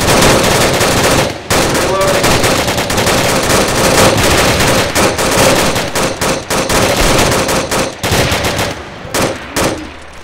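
Sustained machine gun fire, loud and close, rattling in long continuous bursts with a few brief breaks and a shouted voice now and then.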